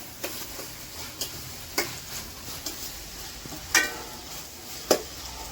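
Onions and tomatoes sautéing in oil in a pan for Chettinad-style quail gravy, a steady sizzle broken by regular light spoon taps and stirring clinks, close and fairly loud, with no talk.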